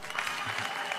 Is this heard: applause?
yes